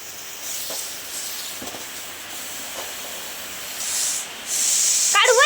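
A pressure cooker that nearly burst hisses steam in a broad, steady rush, swelling louder near the end where a sharp whistle-like burst cuts in.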